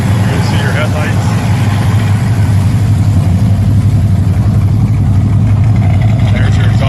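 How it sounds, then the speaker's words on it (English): A muscle car with a high-rise intake, aluminum heads and MSD ignition idles with a steady, loud, deep exhaust rumble that holds unchanged throughout, close by. "There's your exhaust. It's got a nice sound to it."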